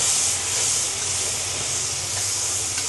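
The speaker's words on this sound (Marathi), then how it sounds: "आता हे टोमॅटोची पेस्ट चांगली परतून घ्यायची आपल्याला" Tomato paste made from about 400 grams of tomatoes fries in spiced masala for Puneri misal pav and sizzles with a steady, close hiss. Faint stirring scrapes run under it for about three seconds.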